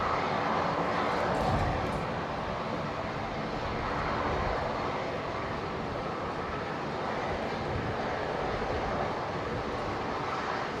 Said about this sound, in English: One of the Flydock Beach King Airs on the move, going to Gladstone, so that'll go to the new runway.